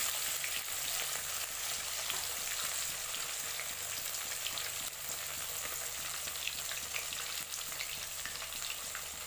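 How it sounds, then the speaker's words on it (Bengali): Pieces of katla fish frying lightly in hot oil, a dense, steady sizzle and crackle that holds evenly throughout at close range, with no voices. "মাছটা বেশি কড়া করবো না, আমি হালকা করে মাছটা ভাজবো"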